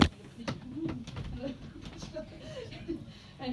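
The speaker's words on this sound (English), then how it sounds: "I assumed it was pigeons." Pigeons cooing outside a hall during an evening clairvoyance event in Winchcombe, soft low repeated coos heard faintly in the distance under a person talking nearby.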